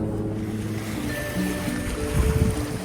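Ocean surf at Saxe Point, British Columbia, a steady broad wash of waves with wind buffeting the microphone and a low rumble, continuous and fairly loud with no voices.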